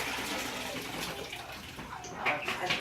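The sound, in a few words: water being changed while grouting a kitchen floor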